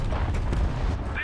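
A heavy tank destroyer gun in a WW2 video game lets off a short, deep boom over a low rumble, one quick burst of shot noise.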